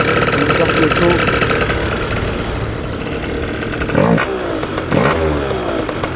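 A hot two-stroke 50cc scooter engine running on a 3% oil mix idles loud and close, a busy rattling burble with brief blips of throttle.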